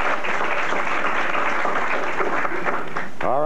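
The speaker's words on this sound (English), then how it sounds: "Let's give him a round of applause, man" Studio audience applause on a 1980s varsity quiz bowl show, steady close clapping throughout with a brief voice at the end.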